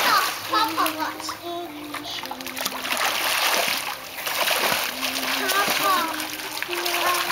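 A child splashes through butterfly strokes in a backyard swimming pool, with steady, fairly close churning water throughout and a voice calling out over it.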